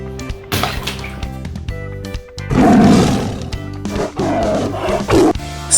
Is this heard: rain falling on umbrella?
no